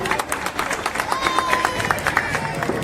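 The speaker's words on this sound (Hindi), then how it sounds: "जोरदार ताली हमारे आवाम के लिए" A crowd claps loudly at the Trinamool Congress foundation day event in Kolkata ward 39, with rapid, steady applause running under voices and murmuring.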